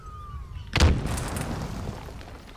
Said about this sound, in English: I just like to see grenades drop down and explode.